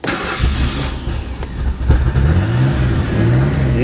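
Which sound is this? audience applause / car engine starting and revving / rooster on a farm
car engine starting and revving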